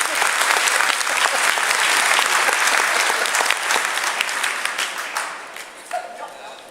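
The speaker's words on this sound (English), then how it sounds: "So big round of applause please for Jake" Applause from an audience welcoming Jake, an author and student, to give a talk: dense, loud crowd clapping that holds steady, then thins and fades toward the end with a few scattered claps.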